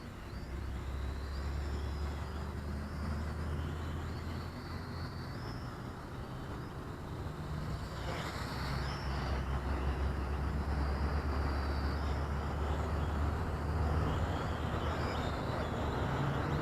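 A Huying Toys X6058 quadcopter drone hovers and comes in to land, giving a steady broadband rotor whir with a faint high whine that swells slightly midway and stays close and constant, with no talking.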